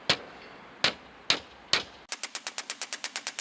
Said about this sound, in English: when you hammer in your nail, just try and get it so that it's firm against the slate